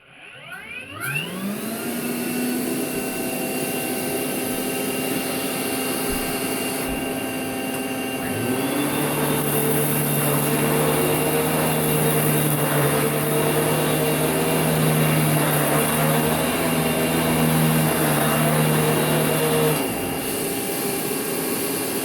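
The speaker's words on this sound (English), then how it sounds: "It's a very fun vacuum to use, so let's go for it." A Rainbow water-filter vacuum cleaner motor whirs steadily, its pitch rising at startup and then shifting to a louder, higher whine partway through as it keeps running.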